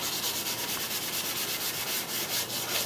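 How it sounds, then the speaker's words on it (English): An aluminum rain gutter being hand sanded with 220-grit sandpaper on a flat work surface gives a continuous close, rhythmic rasping scrub, with even back-and-forth strokes and no voices. "sanding it until it looks like one of those old 70s polished aluminum mag wheels."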